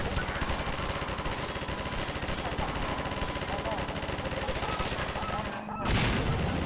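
An automated turret in Half-Life 2 keeps up rapid, continuous firing, a loud dense rattle that runs almost unbroken before a brief cutoff and a sharp burst, with a voice faintly underneath.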